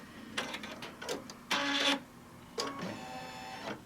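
An embroidery machine stitching a placement line on fabric in the hoop for a mug rug gives short, quiet bursts of rapid mechanical whirring separated by pauses, close by.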